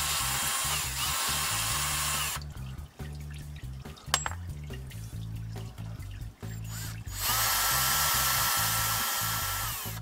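A power tool runs bolts out during a transmission service on a Mercedes 722.9 gearbox in an ML-class vehicle, a close loud whirring and ratcheting in bursts with steady hiss behind.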